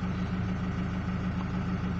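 A 2007 Ford Mondeo 2.0 TDCi diesel engine idles nearby with a steady, even low rumble and a regular rhythmic throb, alone with no voices.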